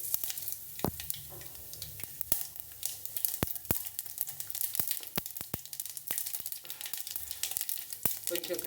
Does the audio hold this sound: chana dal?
yes